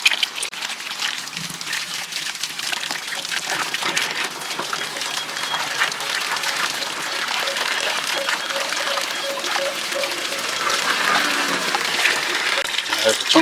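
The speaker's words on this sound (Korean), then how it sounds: "청소가 다 됐으면 맑은 물에 깨끗하게 씻어 주시고요" Graphics card parts rinsed in clean water after cleaning, a steady broadband splashing and running-water wash that holds at an even level throughout, without pause.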